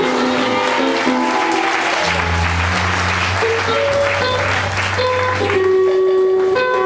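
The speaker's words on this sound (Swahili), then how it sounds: "Piga Yesu makofi" Congregation applauding in a church service, loud sustained clapping throughout with music playing and voices underneath.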